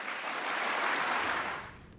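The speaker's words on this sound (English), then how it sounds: "That's an applause line." An audience applauds in a dense, even burst of clapping that holds steady and then fades away near the end, with no voices over it.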